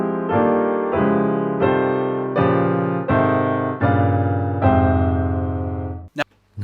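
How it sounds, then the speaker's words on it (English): A real or finely sampled piano plays two chord scales at once in contrary motion. Seven full, ringing chords fall in an even, unhurried sequence, with no other sound, and the passage ends in a brief scuffing noise. "Now that's what a real piano sounds like"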